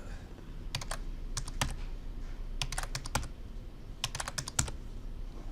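Typing on a computer keyboard during a drafting software exercise, several quick bursts of crisp key clicks separated by short pauses over a faint room hum, close and clear.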